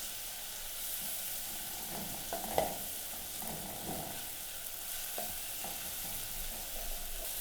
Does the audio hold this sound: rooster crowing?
no